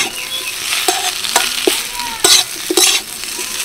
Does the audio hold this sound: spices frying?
yes